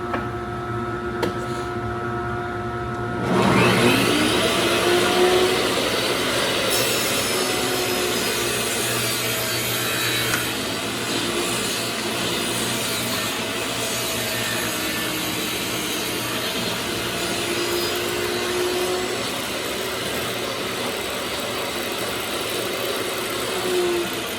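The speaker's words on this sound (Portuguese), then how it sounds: "Eu vou ligar aqui o coletorzinho de pó." A dust collector hums steadily while a circular saw spins up and cuts wood with a sustained whine and rasp, making a 45-degree bevel cut along the length of the board in a workshop.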